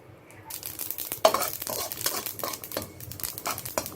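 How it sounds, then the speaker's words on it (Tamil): About a hundred grams of dry white sesame seeds rustle and crackle as they're stirred and scraped around a hot pan, a continuous crinkly hiss with occasional sharper taps. "இப்போ வெந்தயத்தை மாற்றிட்டு நம்ம வந்து வெள்ளை எள் வறுத்துக்கலாம்"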